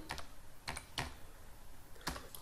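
Quick bursts of keystrokes on a computer keyboard, a few short clusters of clicks separated by pauses, close and fairly quiet.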